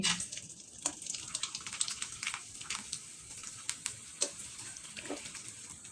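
Semolina chips frying in hot oil at home, a soft steady sizzle with scattered crackles and pops, quiet and close with occasional louder spits.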